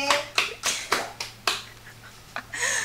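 Girls on a dating show clap for a woman, scattered sharp individual claps and snaps in an uneven rhythm, a handful of distinct hits rather than a full crowd, with a faint steady hum underneath.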